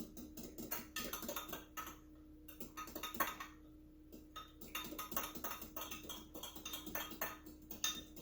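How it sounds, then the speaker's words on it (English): Berry bread ingredients being mixed together in a bowl, with steady clinking and scraping of a utensil against the dish, close and continuous throughout with a low steady hum underneath. "I'm just going to mix this together."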